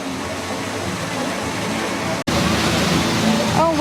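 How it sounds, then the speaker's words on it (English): A jumping water fountain at Epcot gives off a steady rushing, splashing wash of water that continues throughout with a brief sharp dropout partway, and faint crowd ambience lies underneath. "Oh, we have jumping water over here too."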